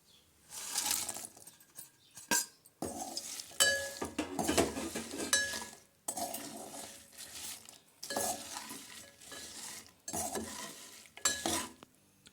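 Fried broad beans stirred into a chutney tempering in a pan: repeated spoon scrapes and clinks against the metal in steady bursts with short pauses, a light sizzle underneath, close and with no speech.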